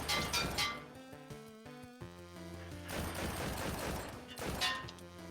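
Gunfire in the VR game Cactus Cowboy as a turret is shot: a quick run of loud, crackling reports that thins out and then returns in a burst, over steady tonal game music.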